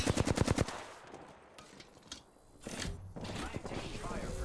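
Rapid automatic gunfire in the Apex Legends video game rattles out in a quick burst of close, loud shots, then gives way to quieter game sounds and scattered clicks.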